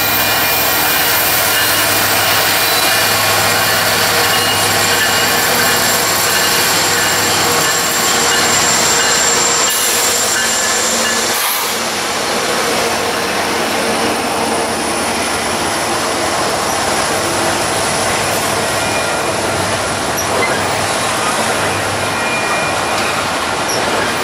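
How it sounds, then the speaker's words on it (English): Union Pacific intermodal train led by locomotive 2615 passing on the Geneva subdivision at Rochelle, a loud, sustained close-up roar of rolling cars with squealing wheels throughout. "On the Geneva subdivision is another Union Pacific intermodal train led by Union Pacific"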